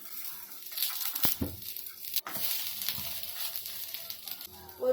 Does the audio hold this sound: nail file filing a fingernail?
no